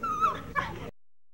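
Several dogs at a breeding or kennel site whimper and yip in short, close, high-pitched bursts lasting under a second, then everything falls silent.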